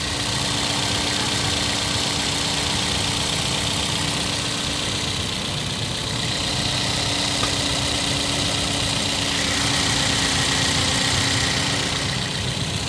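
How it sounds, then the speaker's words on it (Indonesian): A Toyota Yaris engine idling up close, a steady even hum with a low mechanical drone that holds constant throughout, no talking over it. "Gue deketin ya, biar kedengeran suara mesinnya."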